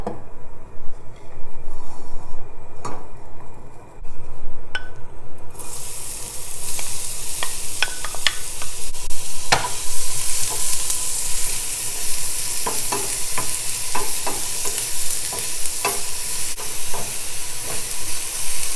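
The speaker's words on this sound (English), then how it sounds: "Put a little bit of oil to fry the onion." Onion pieces fry in oil in a pan, a loud, continuous sizzling hiss with steam, broken by frequent scraping and clicking as a utensil stirs them, close up with no voices.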